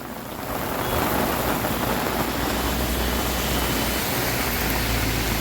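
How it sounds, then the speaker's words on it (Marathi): Heavy monsoon rain pours steadily at Rajmachi garden in Khandala, a dense, continuous roar that swells in during the first second and then holds loud and unbroken. "हा, मस्त पाऊस आला, फर्स्ट क्लास"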